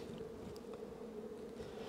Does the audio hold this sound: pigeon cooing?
no